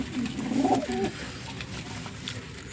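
A pigeon coos softly a few times near its two newly hatched chicks, the low murmuring calls bunched early and then fading into a quiet room hum.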